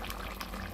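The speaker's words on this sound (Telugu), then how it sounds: "ఇప్పుడు కొన్ని వాటర్ యాడ్ చేస్తాను ఇందులో" Water is poured into a pot of simmering crab curry, a short steady gushing pour with a bubbling wash, close and moderately loud.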